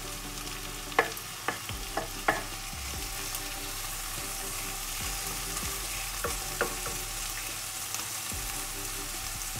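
Mixed peppers and spring onion fry in a pan with a soft, steady sizzle while a few sharp utensil clinks and taps ring out near the start and again later, close and fairly quiet with no talking, for Jamaican brown stew sea bream.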